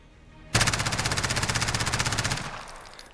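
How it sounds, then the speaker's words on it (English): An MP9 submachine gun in Call of Duty Modern Warfare fires one sustained automatic burst of about two seconds, the rapid shots evenly spaced and loud, ending abruptly, with no talk over it. "we're going to test out the fire for this weapon"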